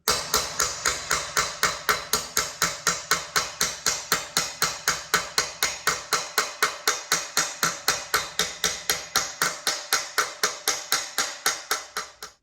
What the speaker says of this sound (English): we're just hammering on the weld a little bit to relieve some of the tension from the welding and shrinking